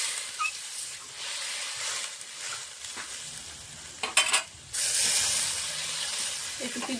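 Water poured into a pan of frying fish curry with turmeric and salt, giving a steady hiss and sizzle, a clattering stir midway, then a louder, sustained sizzle; a voice talks faintly underneath.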